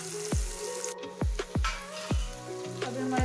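Onion and green chili sizzle in hot oil with mustard seeds as a tempering for upma, a soft steady crackle broken by several sharp pops and spits, fairly quiet throughout.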